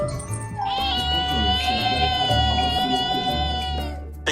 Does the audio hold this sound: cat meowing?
yes